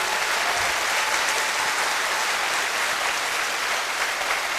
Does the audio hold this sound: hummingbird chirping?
no